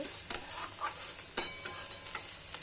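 Cabbage greens stir-fry in a pan with a soft continuous sizzle, broken by scattered scraping strokes of a spatula and a few sharper clatters against the pan, fairly quiet and with no talking.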